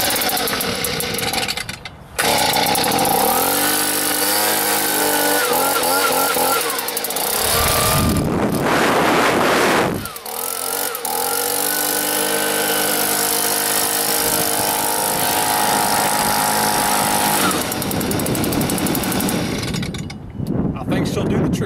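A Stihl BG 55 leaf blower's two-stroke engine starts and runs, revving loudly with a brief roaring surge midway before settling back to a steady, close drone.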